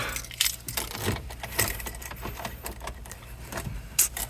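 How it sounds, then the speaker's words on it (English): A bunch of car keys jangles and clinks near the microphone in irregular bursts, pulled out before unlocking a vehicle for an engine tune, with no talking. "let me get my keys out"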